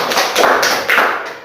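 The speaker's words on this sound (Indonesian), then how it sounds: "Kasih aplaus untuk Alisa." Students in a sixth-grade Indonesian language classroom applaud a classmate, a short burst of clustered claps and taps, close and loud, without voices.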